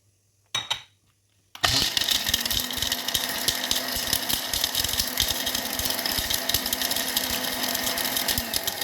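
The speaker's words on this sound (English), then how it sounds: "with my dry blender, because I'm going to grind my calabash nutmeg and that ihu" A dry blender grinds calabash nutmeg and ihu spice, starting with a brief whir then running as a steady, loud, close motor whine with rattling seeds for the rest of the stretch, no talk.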